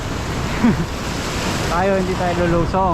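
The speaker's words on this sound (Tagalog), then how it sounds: "Kasi malakas ang alon." Strong sea waves surge against the shore at a fishing spot, a constant broad wash of surf and wind under a voice speaking nearby.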